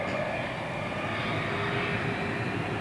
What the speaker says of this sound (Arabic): الطائرة المقلة لفخامة ضيف البلاد الكبير فخامة الرئيس الأمريكي جيمي كارتر إلى حيث المكان المخصص لوقوفها